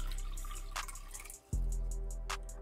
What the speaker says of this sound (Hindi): तो सबसे पहले हमें ऐड करना है पानी